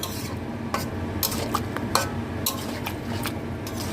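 A cooking pot is covered with its lid, with several close metallic clinks and knocks over a soft background hiss.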